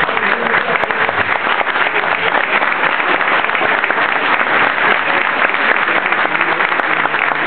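Sustained, dense applause from an audience at a Scouts of Argentina centenary gathering at the national Scouts headquarters, steady and loud throughout with no pauses.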